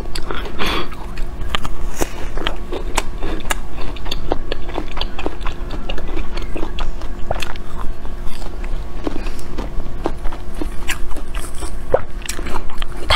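Baby coconut being bitten and chewed up close, with repeated crisp, wet crunches and squishes in an irregular rhythm throughout, loud and intimate with no talking.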